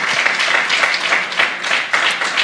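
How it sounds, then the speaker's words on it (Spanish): A church congregation at a Bible study claps in steady applause, a loud, continuous rush of many hands with a faint rhythmic pulse running through it. "da un aplauso al Señor"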